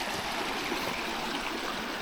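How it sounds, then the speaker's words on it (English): Water trickling and gurgling along a creek, a steady broadband rush that continues close and even throughout, with no voices. "I love water. Listening to it trickle and stuff."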